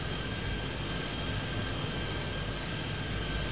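An airplane takes off in an air traffic control video game, making a loud, steady, continuous jet-like roar with a faint whine running through it and no talk.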